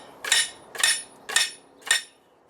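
Four evenly spaced metallic hammer strikes ring out as a garden stake is driven into the ground, each a sharp close clank with a short ringing tail, no speech.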